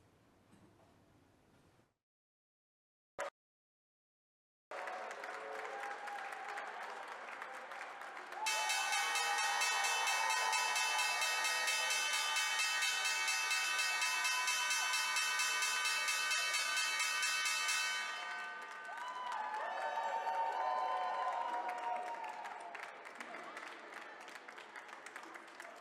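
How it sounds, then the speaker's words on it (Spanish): The opening bell at Wall Street rings for about ten seconds as a loud, sustained metallic clang over continuous applause and cheering from the trading floor crowd, with clapping continuing before and after the bell. "vamos con el toque de campana en Wall Street."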